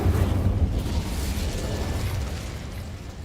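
An Incendio fire spell cast in the Hogwarts Legacy video game: a close, roaring whoosh of fiery burst that starts loud and slowly fades over about three seconds.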